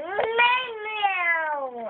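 A voice imitates a cat's meow, a single drawn-out whining call for about two seconds, close and fairly clear against quiet surroundings.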